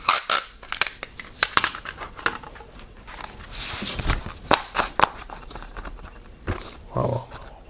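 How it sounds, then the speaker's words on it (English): Sticky tape is pulled and torn off a roll while assembling an Airfix 1/72 scale TSR-2 model kit, making a run of close, sharp crackles and rips in uneven bursts. There is a longer peeling stretch in the middle, and no talk. "So I'll get a bit of tape onto this."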